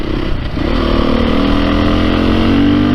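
A 2022 Beta 430 RR-S dirt bike engine pulls hard through the mid-range, its loud, close drone climbing steadily in pitch as it accelerates without a break.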